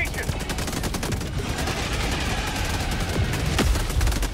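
Turret gunfire in the Helldivers 2 video game, a dense continuous barrage of rapid shots and booming impacts, loud and unbroken throughout.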